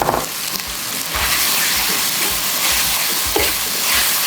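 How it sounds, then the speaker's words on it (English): Drained udon noodles hit a hot pan and fry with a loud, steady sizzle and crackle, while occasional stirring scrapes run through it close up. "I have drained the udon noodles and I'm just gonna throw it straight into this pan"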